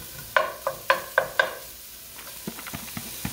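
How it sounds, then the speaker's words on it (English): Onions hit a hot pan with beef for stroganoff, giving several sharp stirring clatters and a low sizzle, then lighter taps of the utensil. The sounds are close and there is no talk. "And while that's breaking up, I'm going to throw in some onions."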